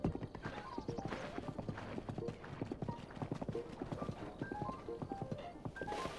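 Horse hooves clip-clop in a fast, steady rhythm as a horse is ridden in the video game Breath of the Wild, with a brief whinny over the galloping and no talk.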